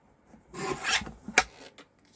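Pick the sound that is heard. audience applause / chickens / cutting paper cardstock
cutting paper cardstock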